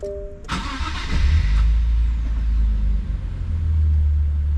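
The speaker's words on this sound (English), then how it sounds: "Let's go ahead and start up the Z" A 2023 Nissan Z with a six-speed manual cranks and fires up, a short starter whirr giving way to a loud, steady engine rumble at idle close by, with no talk.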